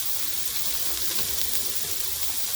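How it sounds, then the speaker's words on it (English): Mixed vegetables sautéing together in a pan for a shrimp and vegetable pesto pasta, a steady, even hiss of sizzling that runs unbroken throughout without talk. "So we've got all the vegetables in there, sauteing together."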